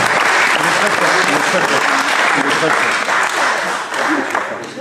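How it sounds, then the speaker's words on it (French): A dense, steady burst of audience applause from a live crowd, loud and continuous throughout before thinning slightly at the very end. "On peut l'applaudir bien fort."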